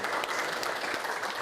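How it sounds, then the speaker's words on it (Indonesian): Students in a classroom lesson clap together in a brief, dense burst of applause, a steady busy patter of many hands with no voices on top. "Tepuk tangan untuk kita semua."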